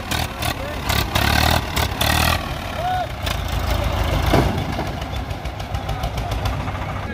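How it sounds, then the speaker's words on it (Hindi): Two tractors hitched together in a tug-of-war contest, a Swaraj 855 against a Farmtrac 60 and Sonalika 750, their diesel engines rumbling loud and steady with bursts of revving, while someone talks over them. "दो ट्रैक्टर जोड़ रखे पहली साइड।"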